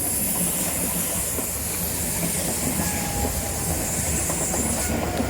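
An InterCity 125 HST passenger train passes along a seawall at Cockwood, roaring steadily and loudly at close range with a continuous rush and rail clatter, and no voices.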